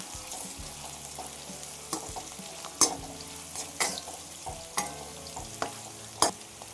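Vangibath masala fries in a pan, with a steady low sizzle broken by sharp scraping stirs of a spatula at irregular intervals, fairly close and with no voices.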